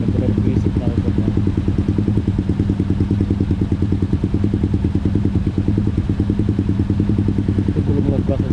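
A motorcycle fitted with a custom exhaust idles in busy Bali traffic, a loud, close, steady throbbing putter that pulses evenly throughout.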